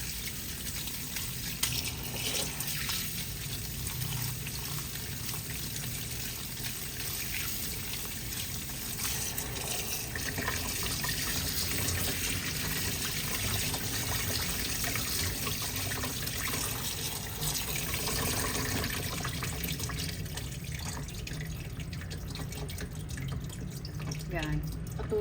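Tap water runs steadily over chicken being rinsed while making chicken macaroni salad, a continuous trickle and drip from the faucet at moderate level, with a person talking softly over it.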